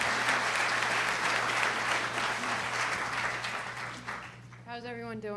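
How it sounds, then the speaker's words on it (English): A high school assembly audience applauds for a speaker named Faith, sustained dense clapping that tapers off, with a voice starting to speak over the end. "Let's give Faith a nice round of applause,"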